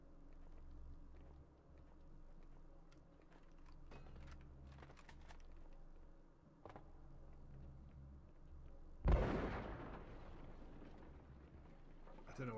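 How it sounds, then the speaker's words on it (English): A chandelier crashes down in the video game Afterfall InSanity with a single sharp, loud burst like a shotgun blast, rising abruptly out of steady game ambience and low background rumble and trailing off in a noisy decay. "I don't know why that sounds like a shotgun going off. Chandeliers falling?"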